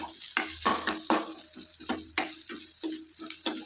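Punarnava leaves are stirred while frying in a pan, a quiet run of about ten distinct scraping strokes in an uneven rhythm over a faint sizzle.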